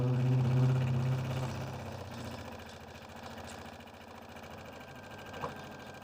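A sewing machine stitches two fabric pieces of a rustic barn-themed pillow accessory together, a steady close mechanical whir that softens after the first second and runs on evenly with no talking.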